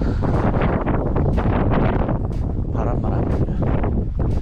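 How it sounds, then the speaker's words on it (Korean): Strong wind buffets the microphone on a spring bass-fishing outing at a lakeside in northern Gyeonggi Province, a steady loud rumbling roar with gusty surges that runs throughout the clip. "바람."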